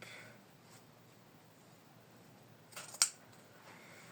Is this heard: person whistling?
no